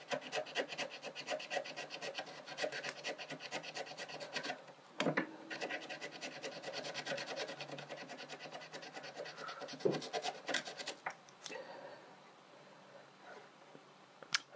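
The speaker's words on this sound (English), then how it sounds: "a scrap of emery paper that I've torn off. I'm just going to use that to rub along here." Emery paper rubs back and forth against a cut-out silver necklace piece in a steady, close rasping scrape that carries on for most of the stretch, easing off near the end.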